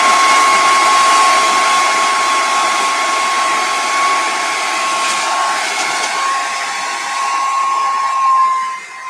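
A hair dryer runs loud and close at its highest setting, a constant roaring rush of air with a high steady whine that dips slightly midway before tapering at the end.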